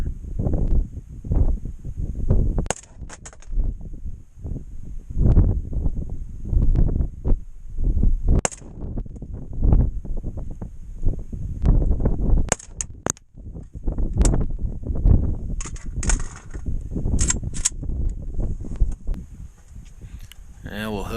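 An AK rifle fitted with a Texas Weapon Systems dogleg cover and a red dot fires a series of sharp, loud shots at irregular intervals. Someone talks between and over the shots.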